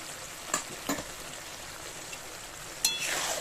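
Ground poppy seed paste goes into a simmering ridge gourd and potato curry with a few soft spoon knocks. A low frying sizzle runs throughout and swells into a brighter hiss near the end, quiet and close.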